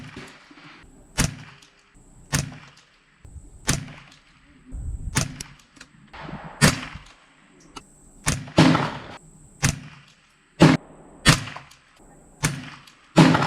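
A rifle fires subsonic rounds at a 75-yard target outdoors, about a dozen sharp reports spaced roughly a second apart, each with a brief decaying tail and handling noise between shots.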